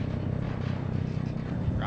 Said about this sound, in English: It's a jet.